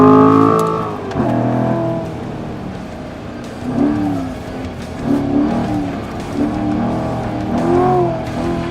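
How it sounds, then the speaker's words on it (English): A 2014 Corvette Stingray on the Laguna Seca racetrack revs and pulls through repeated acceleration bursts, its exhaust note rising, dipping and climbing again, heard loud from up close. "Corvette engineers did a lot of work on fine-tuning the harmonics of the exhaust system"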